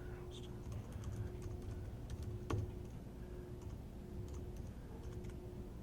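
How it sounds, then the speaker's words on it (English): Typing on a computer keyboard produces quiet, irregular clicks with one sharper tap partway through, over a faint steady hum. "Then you start to type what you want to say, what you want to write."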